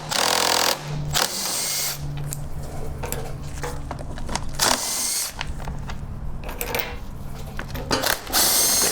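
A power tool whirs in bursts as it removes bolts from the muddy frame of a Generac GP3000i inverter generator during a pull starter replacement, running steadily near the mic with brief pauses between runs.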